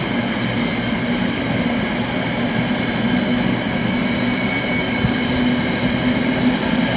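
Chiltern Railways diesel unit 168219 arriving at Oxford station on a terminating service from London Marylebone; a loud, steady engine drone and rumble close by, with a faint high squeal, no talk.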